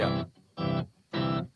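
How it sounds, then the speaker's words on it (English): Three evenly spaced bursts of thick, buzzy electric guitar played straight into an octave effect, each note doubled with deep lower octaves, with short silences between them. "octaves on the plinky guitar straight in."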